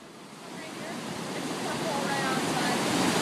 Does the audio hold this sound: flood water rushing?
yes